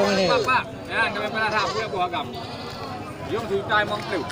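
Goats bleat repeatedly, several wavering calls close by, mixed with people talking and general noise at a goat sale.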